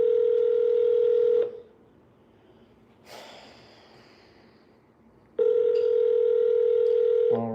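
Two long ringback tones from an outgoing telephone call, each a steady electronic ring lasting over a second, separated by a quiet gap with a brief breathy sound.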